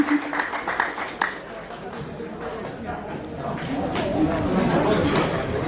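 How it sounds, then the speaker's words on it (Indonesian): Gathering at a traditional village ceremony in Indonesia gives a round of applause, scattered claps amid murmuring voices that swell into fuller, steady clapping near the end. "mana tepuk tangannya?"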